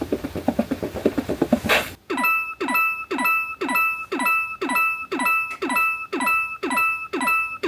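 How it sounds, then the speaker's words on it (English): After a short rhythmic burst, the Nintendo Alarmo alarm clock sounds its hourly chime, a bright repeating electronic jingle pulsing in an even rhythm about twice a second. "I guess on the hour we'll have an hourly chime"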